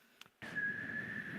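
After a brief click, a single steady whistled tone holds at one pitch, a human whistle imitating a plane coming in to land.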